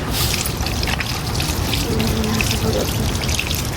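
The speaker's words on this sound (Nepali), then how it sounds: "यहाँ धुन्छु यहाँ सानो धारा रहेछ" Water trickles steadily from a small outdoor tap as hands are rinsed after handling fish from a home pond, a continuous close splashing dribble with faint background sounds.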